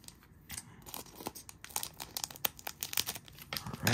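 Crinkly plastic wrapper of a 2023 Marvel Flair trading card hobby pack being cut and torn open, a close run of sharp crackles and crunches with brief bursts, no talking.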